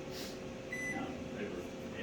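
A Panasonic microwave oven hums steadily at dinner time in a fire station kitchen, a continuous near drone with faint tonal whines, while people talk over it.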